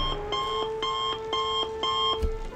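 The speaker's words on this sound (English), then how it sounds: "The random alarm clock." An alarm clock rings in Baldur's Gate 3, a rapid repeating electronic beep in steady pulses, close and clear, with a short thump near the end.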